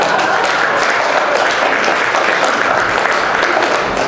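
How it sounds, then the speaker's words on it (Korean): Audience applause at a commemorative birthday banquet dinner for President Park Chung-hee, dense steady clapping from a large crowd filling the room, loud and continuous. "박수."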